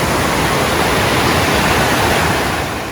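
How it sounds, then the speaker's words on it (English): A river swollen past crossing on the Appalachian Trail rushes in a loud, steady, broadband roar, close and unbroken throughout with no voices. "the AT is across this river, and this is definitely impassable"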